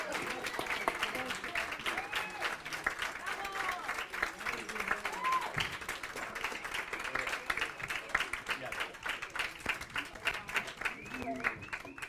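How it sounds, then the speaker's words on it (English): Audience at a medical freedom symposium panel applauding steadily, a dense wash of clapping from a crowd sustained throughout, with voices mixed in. "Let's give all these guys another round of applause"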